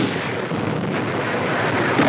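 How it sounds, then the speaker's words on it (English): Gunfire and artillery in a WWII South Pacific jungle battle on archival combat footage, heard as a dense, steady roar of distant blasts and rumbling reports with no clear pauses. "The motion picture camera has never been closer to the deadly fire of enemy guns"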